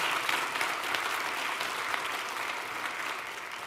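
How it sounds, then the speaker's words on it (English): An audience at a college convocation applauds steadily, a dense, even wash of many hands clapping at moderate volume and some distance, with no pauses. "give a round of applause"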